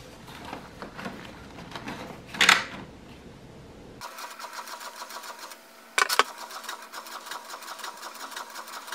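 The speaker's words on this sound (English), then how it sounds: "So I'm going to go ahead and load my paper in there and print this out." Desktop printer feeding and printing on cardstock paper, a mechanical whirring and clicking run, with two sharp bursts of paper feed and roller noise partway through.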